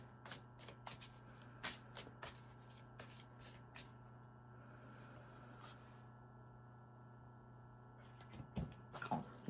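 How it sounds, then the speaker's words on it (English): Archangel Metatron oracle cards are shuffled by hand in a quiet room, giving a string of quick, crisp riffling and slapping bursts with short pauses between them, close and clear, with no talking. "Let me shuffle these Archangel cards."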